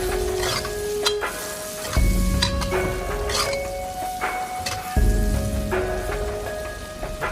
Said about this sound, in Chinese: 再快速的翻炒均匀